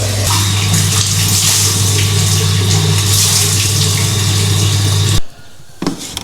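Shower water running steadily in a mosque washroom, a loud continuous hiss with a low hum for about five seconds before it cuts off abruptly, followed by a brief clatter in near silence.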